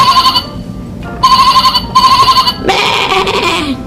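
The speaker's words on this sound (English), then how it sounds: "What noise does the sheep make?" A sheep bleats in a children's lesson on farm animals and their sounds. A few short, repeated bleating calls are followed by a longer, wavering bleat, all loud and close with no talking.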